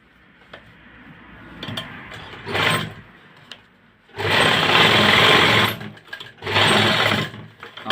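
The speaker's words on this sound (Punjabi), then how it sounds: "ਆਪਣਾ ਇੱਕ ਸਲਾਈ ਆਪਾਂ ਉੱਪਰ ਦੀ ਜ਼ਰੂਰ ਲਾਉਣੀ ਹੈ ਜੀ" Sewing machine stitching a shirt cuff, running in short bursts: a couple of brief runs early, then two longer loud stretches of steady whirring with pauses between, no talking.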